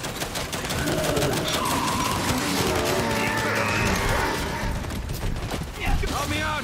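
Gunfire and explosive blasts from the Dropshot weapon in a Gears 5 Horde match, wave 50 on the Foundation map, continuous and loud under excited shouting players.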